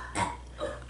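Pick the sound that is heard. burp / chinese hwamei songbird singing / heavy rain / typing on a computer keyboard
burp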